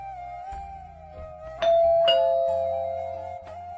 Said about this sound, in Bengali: বাইরে কলিং বেল বাজে।